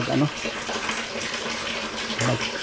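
Water pours from a container into a plant pot in a steady, fairly quiet trickle, with brief louder gushes near the start and end and a voice talking faintly in the background.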